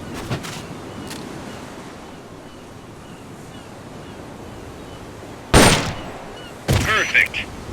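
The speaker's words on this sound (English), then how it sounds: "Ready your weapon with the L button, then press the R button to fire." Gunfire during shooting practice in the video game Metal Gear Peace Walker, a few sharp shots near the start and two louder bursts of rapid fire near the end, over a steady surf-like ambient wash.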